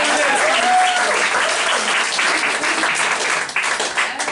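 A comedy club audience at a roast battle breaks into loud, sustained applause and clapping that fills the room, with a voice talking over it. The applause begins to taper off near the end.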